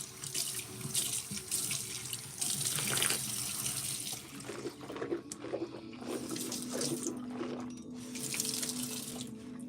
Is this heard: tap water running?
yes